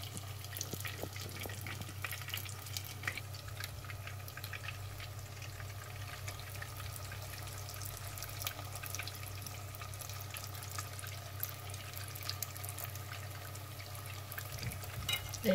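Spring rolls (chả giò) frying in oil over medium heat, a faint steady sizzle and crackle under a constant low hum, close by.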